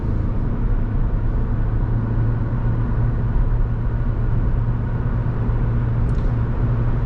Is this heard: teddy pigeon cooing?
no